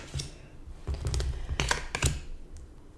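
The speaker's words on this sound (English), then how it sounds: "I'm going to just turn the cards." Tarot cards are flipped and laid on a table in several close, soft clicks and slaps, spaced unevenly over a few seconds, with a quiet background and no speech.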